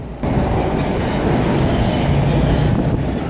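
A train pulls into a station with a loud, continuous rumble of wheels and rail noise, close by and filling the space without pause.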